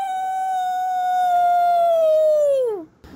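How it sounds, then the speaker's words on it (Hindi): A single wolf gives a long, clear, sustained howl at a steady pitch that bends downward and fades at the end, loud and close with no other sounds. "बर्फानी भेड़ी की आवाज़ 130 किलोमीटर के दायरे में सुनी जा सकती है।"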